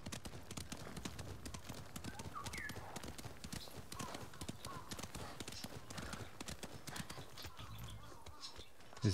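A horse gallops in Ghost of Tsushima, its hooves pounding in a fast, steady clip-clop that runs throughout, with occasional whinnies and a person talking over it.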